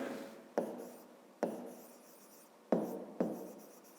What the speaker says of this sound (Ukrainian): Записуємо тоді.